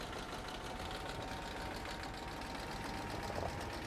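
An old tractor engine in a survival video game labors under a 500 kg load, a steady, rough mid-pitched drone with a faint knocking pulse, constant in level and heard alone.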